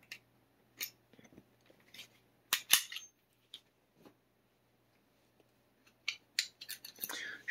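A Springfield SA35 pistol has its slide racked and locked back, giving sharp metallic clacks and clicks in short bursts, close and loud against a quiet background.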